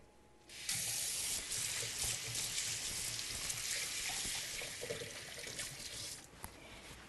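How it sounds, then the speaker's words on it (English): Running tap water splashes steadily as hands are washed at a kitchen sink, a close hiss that starts suddenly and carries on with small splashing variations before fading near the end. "I'm going to wash some hands"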